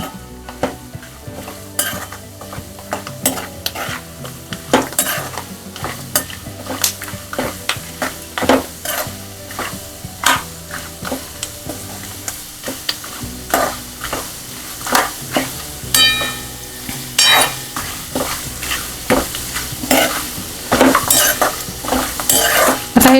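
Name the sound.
stir-roasting peanuts, dal, chillies, curry leaves, coconut for chivda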